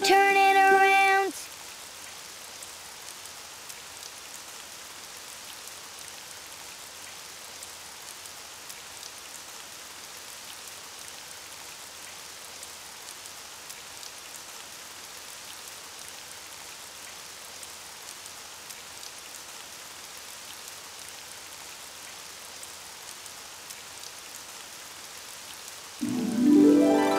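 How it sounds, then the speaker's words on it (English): Rain falling outside, a steady soft hiss of drops on surfaces lasting throughout, moderately faint and even, with brief music at the start and end but no talking. "Oh, it's raining outside."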